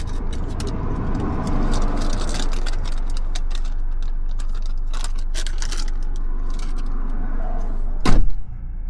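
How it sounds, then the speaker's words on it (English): Steady traffic roar from cars on Route 7 South in Ohio, heard loud and close from inside a moving vehicle, with one louder vehicle rushing past near the end. "There's a lot of cars coming."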